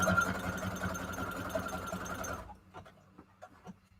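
A sewing machine runs with a fast steady whir for a couple of seconds, then stops, leaving a few soft clicks and handling sounds.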